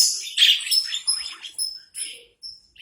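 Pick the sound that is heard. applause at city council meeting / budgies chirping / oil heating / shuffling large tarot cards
budgies chirping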